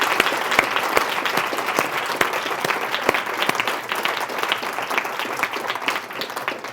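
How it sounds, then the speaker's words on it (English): Steady applause from a large audience, dense overlapping claps sustained throughout without any voices. "let's have an applause for the folks that did this"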